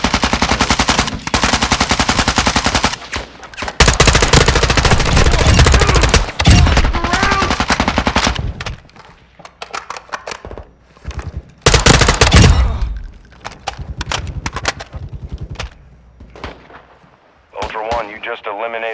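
Heavy automatic gunfire and booming shots in the video game DMZ, long sustained loud bursts broken by gaps and scattered single shots, close and intense with a brief tonal radio-like sound near the end.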